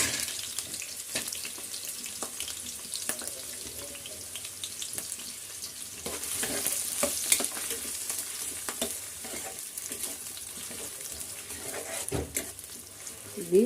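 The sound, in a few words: onion and green chilli frying in oil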